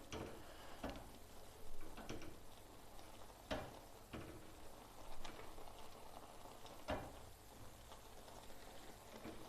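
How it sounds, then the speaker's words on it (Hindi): Soft, steady bubbling of milk boiling with grated carrots in a pot for carrot halwa, with faint pops and occasional sharp ticks spaced every second or two. "दूध हमारा उबल रहा है।"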